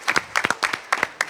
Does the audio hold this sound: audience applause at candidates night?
yes